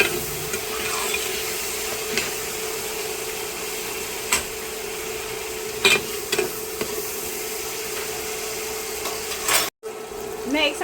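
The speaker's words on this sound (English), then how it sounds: "I'm going to go ahead and saute these onions for about 1 minute" Diced onions sauté in a pot with a steady, close sizzle and frying hiss, broken by a few sharp scrapes and clinks of a utensil stirring against the metal.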